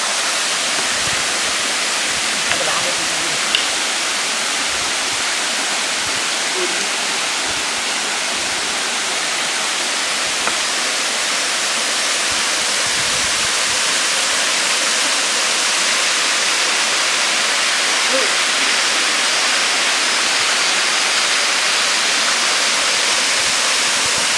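The waterfall at Pha Nam Yod roars as a constant dense rushing of water, close and loud, unbroken throughout with no voices.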